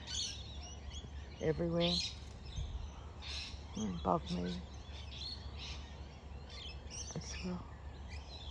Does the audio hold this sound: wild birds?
yes